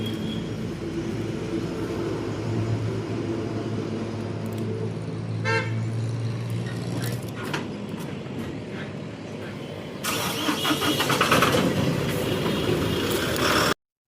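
A tractor drives off a roadside weighbridge while another vehicle waits nearby. Its engine rumbles steadily, then grows noticeably louder and rougher as it pulls away, with a few brief horn-like toots among the traffic noise.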